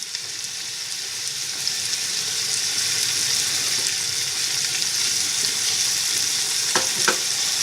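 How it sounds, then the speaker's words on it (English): Lamb sizzles steadily as it browns in a pan for a lamb and pepper ragù, a loud, even hiss broken by a couple of brief clicks near the end. "spread it around the base so it browns nicely"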